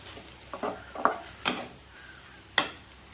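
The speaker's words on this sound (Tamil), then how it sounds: "தேங்காயும் போட்டு வதக்குவோம்" Coriander leaves and grated coconut are stirred in a pan, with a few sharp spatula scrapes and clinks against the metal standing out over a faint, quiet sizzle.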